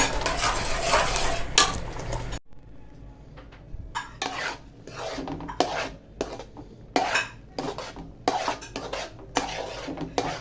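Suji halwa being stirred in a pan as it cooks, a spoon scraping and clinking against the metal in repeated strokes after a loud opening burst, with a faint sizzle underneath.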